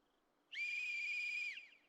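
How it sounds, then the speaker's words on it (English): A whistle blown once in the zombie survival game Project Zomboid: a single clear, shrill tone held for about a second before cutting off, standing alone against quiet background. "All right, whistle time."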